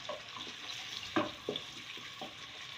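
Onions frying in hot ghee for aloo chicken, a soft sizzle with a few scattered stirring clinks and splutters, fairly quiet and without talk.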